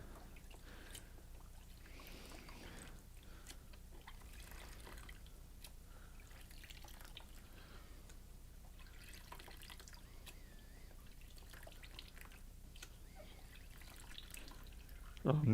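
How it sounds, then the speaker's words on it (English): Water rinsing over a fruit-juice-damaged MacBook A1502 logic board, a steady faint trickle and drip running throughout under light background noise. "I'm just washing it there with water."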